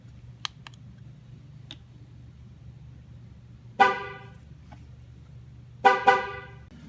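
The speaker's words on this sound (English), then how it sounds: "the horn should blow and then should blow again, letting us know that the recalibration is finished" A Chevrolet or GMC truck horn sounds during a tire pressure sensor relearn, first one short loud blast, then after a pause two quick honks close together, with faint clicks and a low hum in between.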